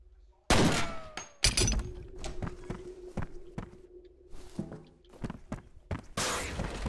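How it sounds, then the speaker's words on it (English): Gunshots in the video game F.E.A.R. fired at a padlock: a sharp blast, a second shot, then a run of dull thunks and footstep-like impacts, ending in another loud burst. "Shoot the padlock."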